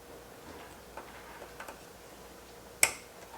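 A computer connector snaps into its L-shaped socket during PC assembly, giving one sharp, close click that stands out from a quiet room with a few faint handling taps before it.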